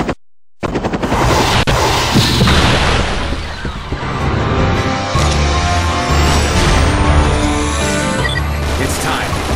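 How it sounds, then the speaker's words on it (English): A large explosion at a tower in The 3rd Birthday breaks in after a brief silence, a loud boom followed by sustained roaring debris and crashing that gradually thins out, with layered game music and effects beneath. "The explosion was a success, but the Babel wasn't completely destroyed."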